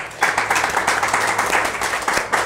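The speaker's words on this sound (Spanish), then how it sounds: "también les solicito un caluroso aplauso" Lecture-hall audience gives a warm round of applause for a team of collaborators, a steady dense wash of clapping hands holding evenly for a couple of seconds without voices.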